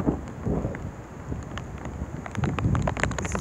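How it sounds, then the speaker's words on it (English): Outdoor wind gusts buffet the microphone in a stormy setting, a rough, rumbling roar that swells and eases over a few seconds, with scattered crackles and a faint steady hum underneath. "that wind's kicking it up"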